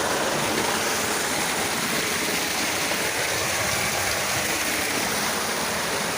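Steady broadband roar of a waterfall and small river rushing, dense and continuous without pause, close and loud, with no voices.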